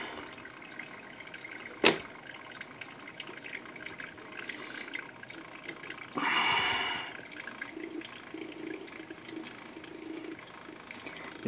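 A PC fan spinning while submerged in oil, giving a steady low churning hum with a sharp click early on and a brief louder gurgling swell about two-thirds through.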